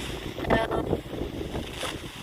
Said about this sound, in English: I might have to get out of here though, it's getting extra windy.